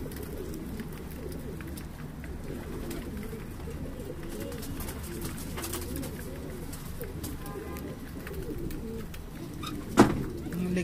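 Pigeons coo in low, throaty, overlapping murmurs throughout, nearby, with a faint voice in the background and a brief sharp knock near the end.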